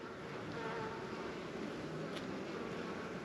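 Honeybees buzz steadily across a hive frame at a farm apiary, a drone among them, producing a dense, continuous close-up hum with no voices.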